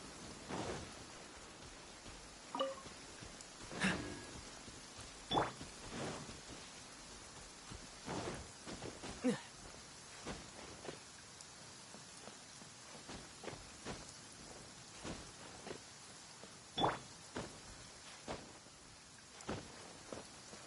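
Rain falls steadily in a video game, a soft continuous hiss with scattered louder gusts and faint distant rumbles, fairly quiet throughout with no talking.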